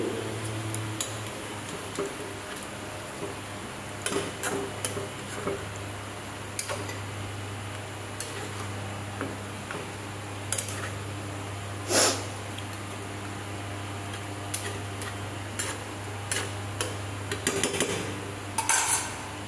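A spoon stirs food in a metal cooking pot on a stove, giving scattered light clinks and scrapes over a steady low background hum, with no talking.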